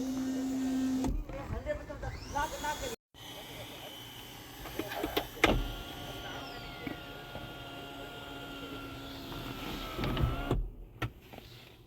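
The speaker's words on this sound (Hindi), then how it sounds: "ये बटन मैं प्रेस करके रखूँगा और ये इसकी सनरूफ खुल जाएगी।" Electric sunroof on a Toyota Sienna XLE hybrid sliding open while the button is held, a steady close motor whine and mechanical hum lasting several seconds, with a voice talking over it.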